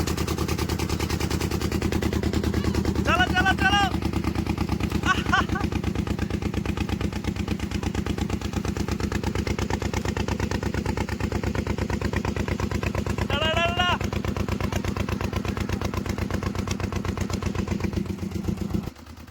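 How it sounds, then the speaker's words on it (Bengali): A country motorboat's engine runs near Fasirgat in Cooch Behar, chugging loud and steady throughout with a fast, even pulse, as brief voices call out over it before it cuts off at the end. "ড্রাইভার সাহেব আমাদের স্টার্ট করে দিল নৌকা"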